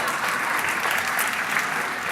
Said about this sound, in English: Give Holland a big round of applause.